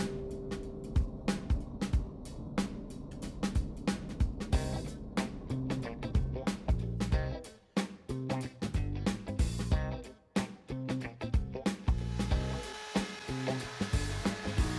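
A 1 3/8 inch Forstner bit bores thumb holes through a wooden cutting board, giving a steady grinding whir that rises and dips with the cuts and drops out briefly twice.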